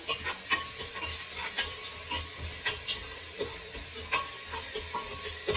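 Curry leaves frying in a pan while bisi bele bath is being made, giving a steady close sizzle broken by repeated stirring scrapes at an irregular rhythm, with no voices.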